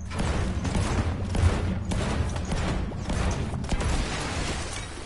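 Continuous crackling gunfire in the Fortnite video game, a steady mid-level barrage of overlapping shots running the whole length without voices.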